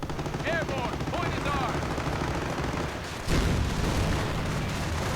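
Machine guns fire during a one-on-one real-time strategy battle in a World War II setting. Rapid dense bursts of gunfire and crackling battle noise go on under steady talk from a commentator, with a louder burst near the end.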